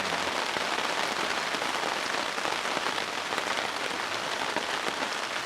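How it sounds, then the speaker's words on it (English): Rain patters steadily onto a plastic sheet at a woodland camp, a dense, even hiss of drops, close and continuous with no voices. "How soothing that gentle patter of raindrops landing on the plastic"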